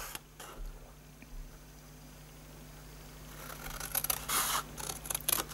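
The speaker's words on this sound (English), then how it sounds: "So you go around cutting and snipping all of those corners out." Scissors snip the corners off stamped paper for a gift box craft, a few soft close cuts and rustles near the end after a quiet stretch.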